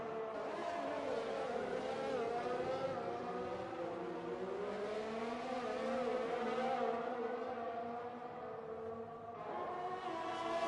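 Simulated Formula 1 cars from the F1 2020 racing game, including a Ferrari, at the Japan round, a continuous high-pitched engine whine with shifting pitch as cars race close together, loud and steady throughout.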